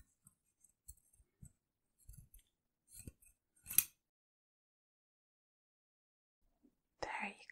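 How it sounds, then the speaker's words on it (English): A series of soft, close scissor snips cutting hair in short bursts, then quiet, followed by a faint whispered voice at the end. "Let me take my scissors and just"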